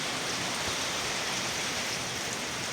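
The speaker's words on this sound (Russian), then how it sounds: "Целый час уже поливает, если не больше." Heavy rain during a storm with hail and thunder pours down in a dense, constant hiss, with no voices.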